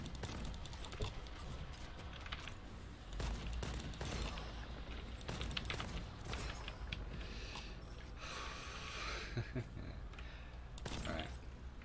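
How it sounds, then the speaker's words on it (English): A rapid barrage of gunfire from a special ability in Gunfire Reborn rattles on in dense, continuous bursts over about twelve seconds, mixed with clicking keyboard taps and mechanical clatter, with a few sharper peaks standing out. "This is a special ability apparently, which is fire a barrage in one go."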